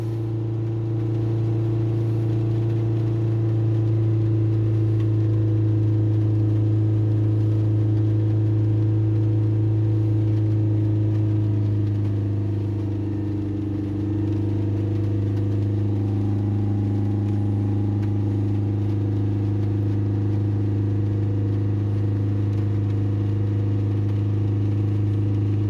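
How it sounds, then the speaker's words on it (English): A Ford Transit diesel van with a blocked DPF holds a steady high-rev drone throughout, loud and continuous, with a brief dip in pitch midway before settling back to the same sustained engine note. "So we're just going to hold the revs there."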